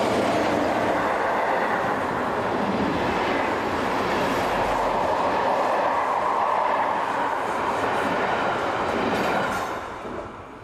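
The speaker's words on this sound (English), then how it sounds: "we see 11110 heading a northbound passenger service bound for Basel" Swiss electric locomotive 11110 heads a northbound passenger train bound for Basel near Luzern, with a keen wind across the lake; a loud, steady rolling roar holds for about ten seconds before it starts to fade.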